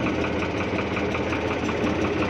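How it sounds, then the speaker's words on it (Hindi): A New Holland Ford 3630 tractor engine idles steadily up close, a loud, continuous diesel rumble with an even knocking pulse and no talk over it. "ट्रैक्टर स्टार्ट हो गया है और बढ़िया अच्छी कंडीशन में चल रहा है"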